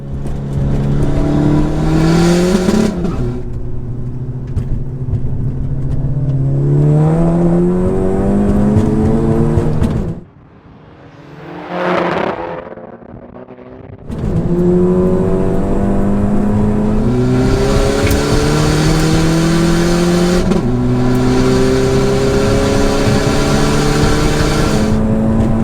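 A 380HP Skoda Fabia VRS and a 380HP VW Golf GTI, one petrol and one diesel, drag racing: loud engines rev hard through rising gear pulls, a brief dip midway, then another full-throttle launch with climbing revs.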